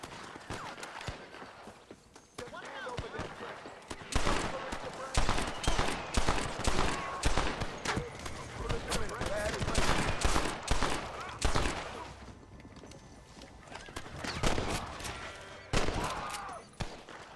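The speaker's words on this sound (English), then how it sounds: "Like gunshots." Repeated gunfire in the Red Dead Redemption 2 Wild West game, a dense run of loud sharp shots and bursts that crowd together in volleys across the stretch, with short lulls between flurries.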